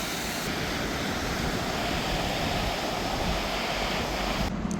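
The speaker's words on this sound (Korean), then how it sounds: "아, 바람 소리 너무 좋죠" Steady, dense wind rushing over the microphone, a constant roar with no pauses, like gusts outdoors.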